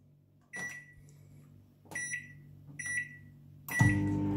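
A microwave oven heating a poppadom, a soft door thud and beeping button presses in succession, then the oven starts with a loud, steady low hum.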